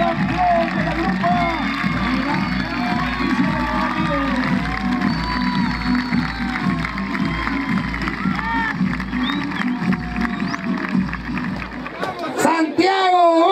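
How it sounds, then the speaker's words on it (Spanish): A crowd at a rodeo-style championship applauds and cheers for a young rider champion in the grupa category, with dense cheering and clapping under a loud announcer's voice over a PA throughout. "el aplauso grande para el joven jinete"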